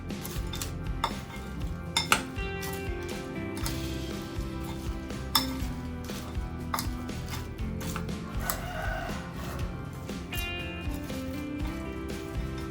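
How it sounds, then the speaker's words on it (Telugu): A spicy Indian snack mixture being tossed by hand in a bowl, giving a steady crunchy rustle with small clinks, fairly faint and continuous, with music playing throughout. "అన్నీ వేసుకున్నాక మొత్తం మిక్స్ చేసుకోవాలి బాగా"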